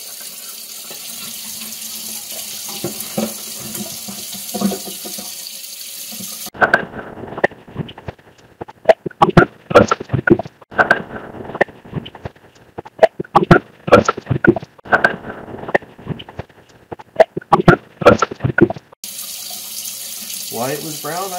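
A household tap runs hard to flush out brown water before it cycles through a pump, gushing and sputtering in close, loud, irregular bursts with brief pauses between.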